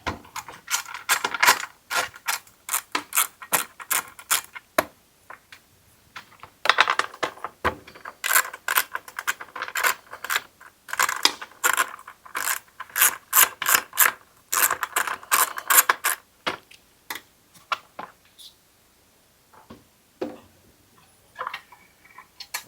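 Starter assembly being taken off a Honda engine on a Troy-Bilt mower, close sharp metallic clicks, ticks and clinks of tools and parts in irregular bursts with short pauses, no talking.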